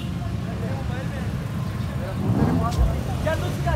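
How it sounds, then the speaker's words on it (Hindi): Several cars rolling in at an outdoor auto show at Bahria University in Islamabad, a steady low traffic rumble with an engine swell near the end, under someone talking excitedly. "गाड़ियों पे गाड़ियां आ रही हैं बाबा जी"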